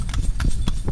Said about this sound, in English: It's my first time doing the horse ride.